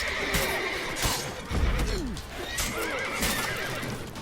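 Horses neigh and whinny repeatedly over steady hoof clip-clops and busy background noise in the video game The Witcher 3: Wild Hunt, with several overlapping calls.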